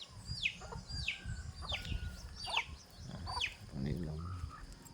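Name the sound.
chickens clucking on a farm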